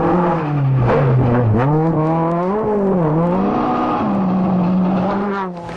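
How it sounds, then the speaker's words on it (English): A Hyundai rally car with a 1.5-litre twin cam DOHC four-cylinder drives close by, its engine loud and steady, with revs rising and falling through several gear changes and no pause in the sound. "Wayne Bell drives for Hyundai Rally Sport, running a twin cam XL and a couple of coupes."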